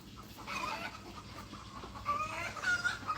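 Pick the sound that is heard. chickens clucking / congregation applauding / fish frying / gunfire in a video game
chickens clucking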